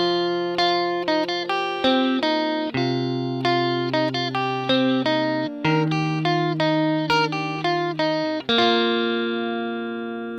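A guitar plays a simple arrangement of a song, plucking bass notes under repeating higher notes in a steady, close, clean pattern with no talking.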